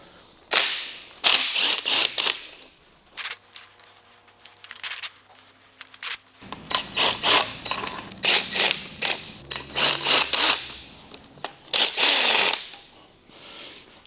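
Exhaust manifold bolts being rattled loose on a used engine with a power tool, in repeated loud mechanical bursts separated by short pauses, with no talking.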